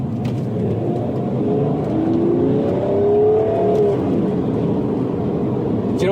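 BMW diesel car, a 335d or 430d, with its engine pulling and revving steadily from inside the cabin, a continuous low rumble that swells and eases, with faint voices underneath.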